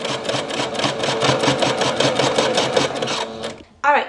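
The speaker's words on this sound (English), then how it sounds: "So all you gotta do is just stitch a straight line." Sewing machine stitching a straight line on fabric, a loud, close, continuous rapid whir that stops near the end as a voice begins speaking.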